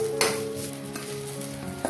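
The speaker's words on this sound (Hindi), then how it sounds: "अभी ये करी लीव्स भी फ्राई होके रेडी हो गया, देखो साउंड आ रहा है, देखो पट पट पट हो रहा है" Curry leaves fry in hot oil in a pan, giving a close, continuous sizzle broken by sharp crackling pops, with a spoon stirring through them.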